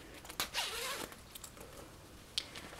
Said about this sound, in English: This is my little messenger Michael Kors bag that I carry, you know, when you're just doing something small. And let me unzip